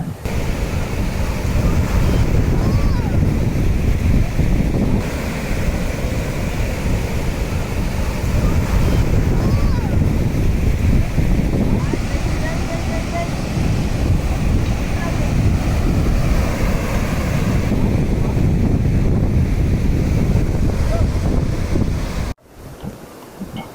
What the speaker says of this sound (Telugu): మనకి మొత్తం సముద్రం అలలు అయితే ఇట్లా ఎగిసి పడుతున్నాయి